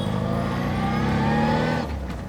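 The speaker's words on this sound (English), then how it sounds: "this one's got a bit of a worked-on engine. It's got a cam, and that's why at low speed there's a bit of flutter" An MG Midget with a worked-on engine and a performance cam drones loudly from close by, revving with a fluttery, pulsing note before easing off near the end.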